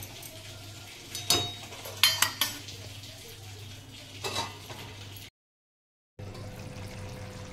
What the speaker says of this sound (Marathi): चांगलं असं परतून घ्यायचं आणि 10 मिनिटं ठेवायचं